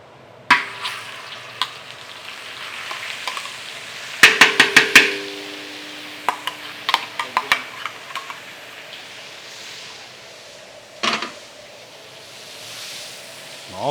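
Margarine melting into a little hot oil in a pan, giving a steady sizzle broken by sharp clatters and scrapes of stirring, close and fairly loud, with no voices.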